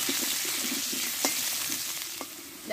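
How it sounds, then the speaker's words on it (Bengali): Pumpkin and vegetable stalks fry in oil in a pan for a vegetarian dish, giving a steady, close sizzle with a few soft stirring clicks and no talk. "আমি একই সঙ্গে কষে একটু ভেজে নেব আগে"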